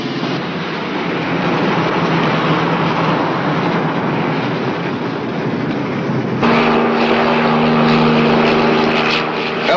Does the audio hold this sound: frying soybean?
no